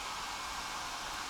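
A hair dryer blows on wet boots, a steady, faint whooshing hiss that holds without change throughout.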